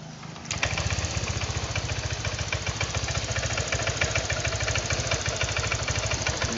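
A Honda Vario 125 scooter engine idles with a steady, rapid mid-pitched putter after a brief start-up, close and loud and unbroken, with no talk.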